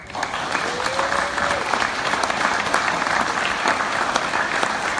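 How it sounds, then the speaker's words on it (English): An audience at a county Democratic candidate forum applauds the candidates, with loud, dense clapping that holds steady throughout and a brief whistle-like tone near the start. "This is a time we can applaud."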